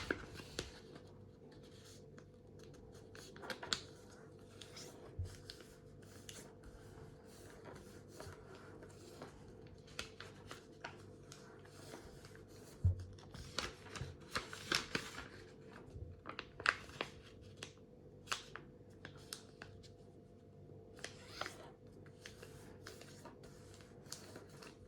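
Sheets of paper are creased, flattened and squashed into flaps while folding an origami fighter jet, with soft rustles and sharp crinkling clicks scattered irregularly over a low steady hum, close and fairly quiet.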